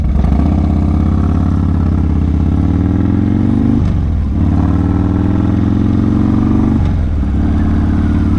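Motorcycle riding at night, its engine loud and close as it accelerates in steady rising revs, with two brief dips where gears shift before it pulls again.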